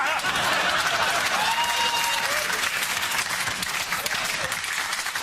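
A studio audience at a comedy show breaks into loud, sustained applause that fills the whole stretch and eases off slightly toward the end.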